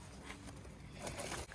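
Rain falls during a storm, a steady dense hiss of close patter that fills the whole stretch without pause.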